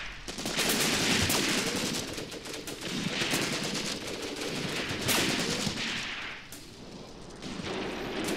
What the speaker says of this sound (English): those machine guns are opening up on our actual trench line